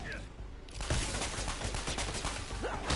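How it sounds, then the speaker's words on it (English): Bursts of rapid gunfire in the video game Marvel's Spider-Man crackle in quick volleys, loud and close, with a voice speaking over the shots. "I hear gunfire."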